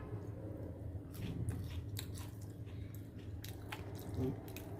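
Close, crunchy biting and chewing of crispy fried paniyaram, with irregular crackling bites over a low background hum.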